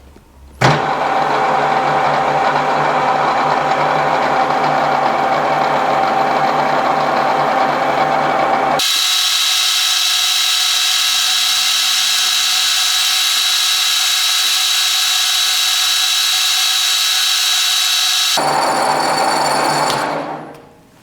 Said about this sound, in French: on démarre la rectif